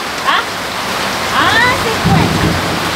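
Steady rain pours down outdoors, a dense, loud hiss that fills the whole moment, while a few people speak briefly over it.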